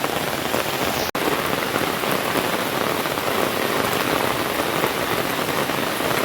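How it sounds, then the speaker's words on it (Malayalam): Heavy rain pours steadily on an evening walk home, a dense continuous hiss of drops on surfaces with one sharp brief click near the start, no voices. "നല്ല മഴ തുടങ്ങിയിട്ടുണ്ട്"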